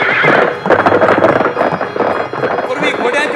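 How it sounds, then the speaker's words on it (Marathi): Horses gallop with whinnies and drumming hooves, loud and busy throughout, mixed with voices in a traditional Marathi powada performance about Shivaji. "घोड्यांच्या डपांचा आवाज कानावरती येत आहे."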